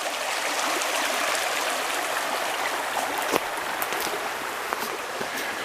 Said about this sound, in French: C'est une rivière extraordinaire